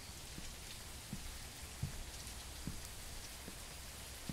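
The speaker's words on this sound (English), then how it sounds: "With this rain, I don't think we will have any more customers today." Steady rain falls in the video game MEAT: a soft, continuous hiss with occasional faint low taps of drops, alone and fairly quiet throughout.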